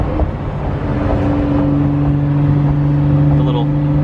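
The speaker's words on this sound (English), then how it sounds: "Those turbo noises are insane." Inside a 2017 Ford GT, a steady engine drone with a high turbo whine holds throughout, close and loud, while people talk over it.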